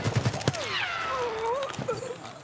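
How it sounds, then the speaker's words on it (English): A burst of rapid gunfire in Escape From Tarkov, with several quick close shots in the first half-second, followed by a falling whine-like tone and a voice. "He shot me."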